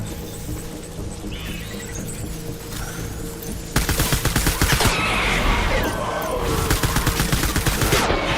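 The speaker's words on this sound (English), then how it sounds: "Taking fire." Bursts of automatic gunfire in Death Stranding, a dense rattling volley that erupts loud and close midway and keeps crackling steadily to the end over a humming game soundtrack.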